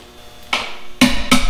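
Three sharp metallic taps from a small hammer striking stuck valves in an old Flathead V8 engine, close and loud, with the second and third blows coming in quick succession.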